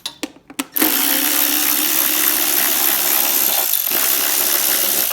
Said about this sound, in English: I'm gonna use an extension and my electric ratchet, and we gotta just get the 2 bolts off the side